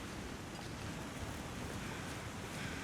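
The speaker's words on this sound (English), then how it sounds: "you can hear the water on the other side of this" Steady rushing water with a faint windy hiss, like waves or a flowing current just out of sight in the frozen wilderness of The Long Dark, continuous and fairly soft with no voices.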